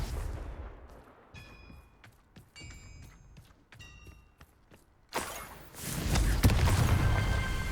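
A Confringo blasting-spell explosion in Hogwarts Legacy, sharp clicks and chimes at first, then a loud roaring burst that sustains toward the end, no voices.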